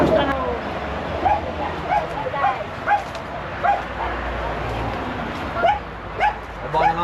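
Several dogs yip, bark and whimper at a short distance in a few brief, scattered bursts over a constant outdoor background hum, with people talking softly nearby.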